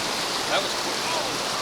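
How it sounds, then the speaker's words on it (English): Steady broadband rush of a river flowing nearby while fishing in Cherokee, North Carolina, continuous and fairly loud, with a faint voice murmuring underneath. "Just listening to that running water"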